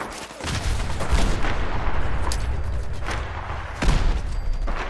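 A flaming skull grenade in Fallout 4 is hurled at enemies, setting off heavy booming blasts and rolling gunfire, loud and close, with several sharp impacts over a continuous rumbling barrage.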